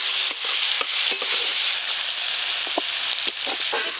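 Loud, hissing sizzle of whole cumin, crushed ginger and chopped tomato hitting hot oil in a pan, with occasional clicks of stirring throughout.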